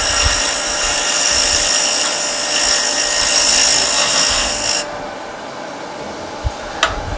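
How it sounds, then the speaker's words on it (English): A wood lathe spins in reverse while a wooden box is hollowed, giving a steady high whirring hiss of the cut for about five seconds before it drops to a quieter hum with a couple of small knocks. "Well, you got reverse on the lathe. Let's go from that side."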